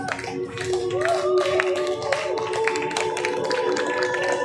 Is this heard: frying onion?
no